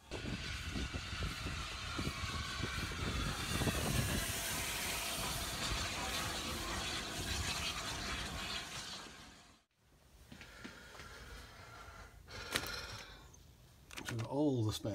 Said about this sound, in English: here we have a steam railway